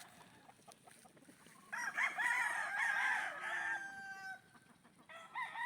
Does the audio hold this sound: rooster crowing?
yes